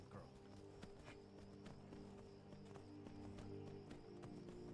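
A horse in the video game Skyrim gallops at a steady pace, its rhythmic clip-clop hoofbeats moderately close over a constant ambient game background, with no talking.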